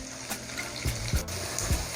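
Vegetables sautéing in olive oil for a chicken pasta, a soft sizzle with several distinct knocks and scrapes of stirring, fairly quiet and close, no voices.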